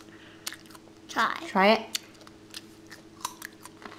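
Crunching bites and chewing of something crisp, close up, in two short bursts, with a few quiet words spoken around them.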